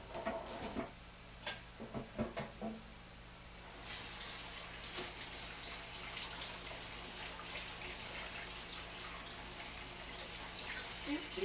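A kitchen tap running as a hand is rinsed under it, a steady soft splash of water lasting several seconds after a few clicks and knocks, fairly quiet and close.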